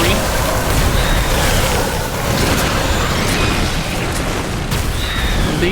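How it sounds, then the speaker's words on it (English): Artillery shells pound a base under attack in The Riftbreaker, a constant dense rumble of booms and bursts with faint higher whistles, loud and continuous, with a voice talking over it. "Base is under attack. That's a lot of artillery."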